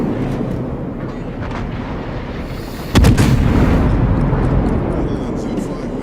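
Armor-piercing shell volleys fire in the naval battle game World of Warships, with a sudden loud booming salvo about midway that trails into a rumbling roar over steady battle noise, while someone commentates throughout.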